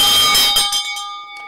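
A bell rings out with a bright metallic strike and clear sustained tones that decay over about a second, loud and close, with no talk over it.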